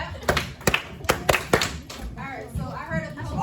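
A handful of sharp hand claps in an irregular group near the start, fairly close, followed by soft murmuring voices in a classroom setting.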